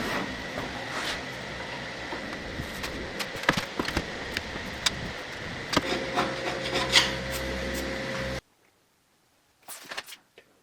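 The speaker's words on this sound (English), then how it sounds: "Just a quick pass with the router and a bit of chisel work" Woodworking on a 1920s wooden workbench: a steady, close rasping and rubbing of tool on wood for about eight seconds, then a sudden stop, silence, and a few short scraping strokes near the end.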